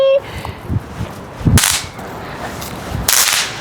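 Small fireworks pop at night in Chaozhou, China. Two sharp, close cracks stand out over low background murmur, with a few softer pops between them.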